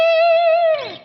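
An electric guitar on its middle single-coil pickup through a Friedman-style distorted amp tone rings out a single sustained note with rich harmonics, bending downward and fading at the end.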